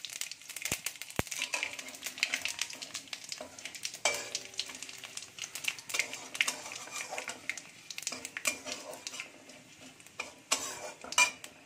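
Whole garam masala, bay leaf and cumin sizzle in oil left from frying potatoes, a soft steady hiss broken by crisp pops and clinks of stirring in the pan.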